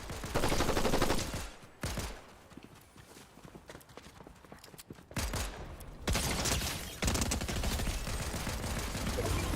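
Gunfire in Fortnite, loud dense bursts of rapid shots and clatter that cut out and return in heavy stretches, close and continuous, with no talking.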